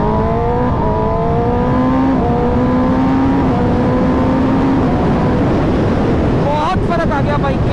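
Motorcycle in sports mode pulling away and accelerating, a steady rising engine drone under heavy wind rush, with a voice talking near the end.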